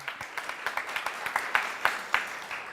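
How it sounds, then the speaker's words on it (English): Audience applause at an event, loose rhythmic clapping with distinct individual claps standing out over a steady wash, moderately loud and fairly even throughout. "Big round of applause,"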